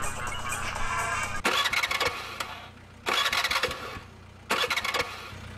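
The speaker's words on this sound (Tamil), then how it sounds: "வண்டி எடுக்க ட்ரை பண்ணுறா." A car's starter cranks repeatedly as someone tries to start the vehicle. Three separate loud grinding bursts come over a low idle-like background rumble.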